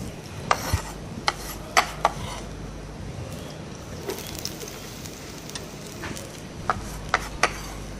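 Chopped vegetables go into a pan for egg fried rice, giving soft rubbing and stirring sounds broken by a few sharp scrapes and clinks of a utensil against the pan, fairly quiet and close.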